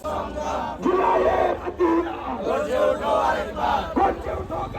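A crowd chanting a slogan together at a street rally, a dense, loud wash of many voices shouting in unison with rising and falling phrases that continue steadily throughout.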